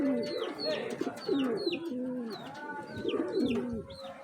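Several racing pigeons coo in low, rolling, overlapping calls, close by and continuous, with small chirps mixed in.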